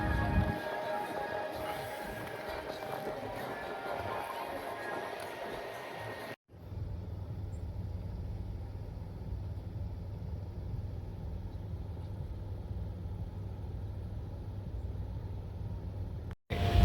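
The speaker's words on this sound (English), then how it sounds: "First art car in action." A Burning Man art car rolls past, opening with a loud, busy blend of music and motor noise, then settling into a steady low engine rumble that continues to the end.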